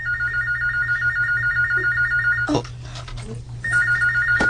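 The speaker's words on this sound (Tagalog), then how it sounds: "Ang telepono." A telephone rings with a repeating electronic warble in a Bisaya drama scene, loud and steady, briefly interrupted by a clattering knock before the ringing resumes over a low hum.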